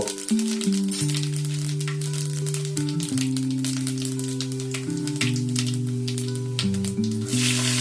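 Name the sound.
mustard and fennel seeds frying in hot oil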